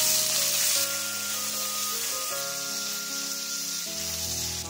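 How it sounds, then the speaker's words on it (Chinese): Minced pork and ginger slices stir-frying in oil in a wok, a continuous bright sizzle that eases slightly after the first second, close up, with a tonal hum underneath. "锅中加入少许油，放入姜片爆香。 姜片爆香后，倒入肉末，炒至变色。"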